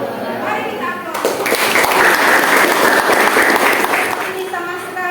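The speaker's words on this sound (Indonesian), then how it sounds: "Mari kita aplaus" A classroom audience applauds with dense, loud clapping that swells and holds for several seconds before fading, with voices speaking just before and after.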